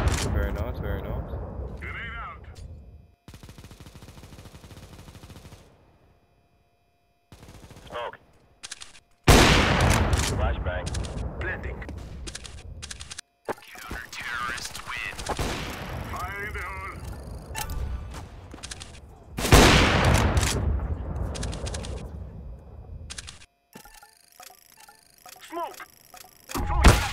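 Gunfire in Counter-Strike: Global Offensive, bursts of rifle shots and rapid fusillades alternating with quieter stretches, with players talking over the action.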